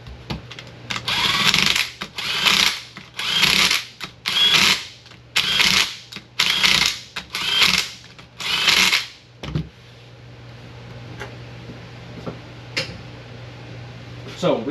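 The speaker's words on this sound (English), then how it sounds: "Let's get this thing over to the vise and let's get these torqued down" Bolts on a Mazda Miata differential are run down while the unit sits in a vise: eight bursts of ratcheting, buzzing tool noise in a steady rhythm over about nine seconds, then quieter handling with a faint hum underneath.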